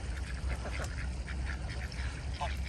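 Farm ducks quack in short, scattered calls over a steady low background rumble, moderately near and fairly faint.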